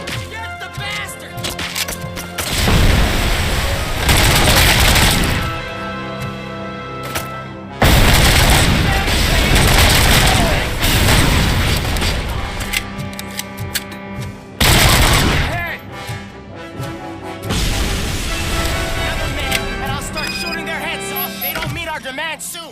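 Heavy gunfire in Robocop: Rogue City, loud bursts of rapid shots and booming blasts in several long waves separated by short pauses, with voices shouting between them.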